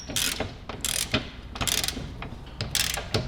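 A wrench tightens a rear shock absorber bolt on a 2008–2020 Dodge Grand Caravan with rapid ratcheting clicks in several quick bursts. The clicking is close and clear, with no talk over it.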